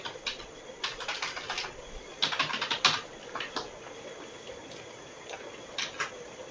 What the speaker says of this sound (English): I'll type it here also